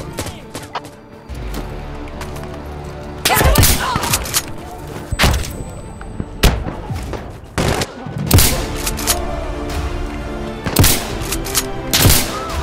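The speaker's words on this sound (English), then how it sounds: "we're looking at shotguns today in Insurgency Sandstorm" Repeated shotgun blasts in Insurgency Sandstorm, several loud, sharp reports spaced a second or two apart over a continuous battlefield din, with ringing tails and scattered thuds between shots.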